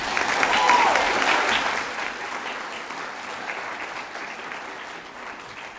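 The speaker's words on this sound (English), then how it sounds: "We should give her a round of applause." A school prizegiving audience gives a round of applause for an award recipient, loud dense clapping that peaks early and then tapers to a lighter, steady patter.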